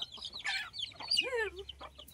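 Free-range village chickens cluck and call close by in a farmyard, with a rising, drawn-out squawk in the middle of a short, busy burst.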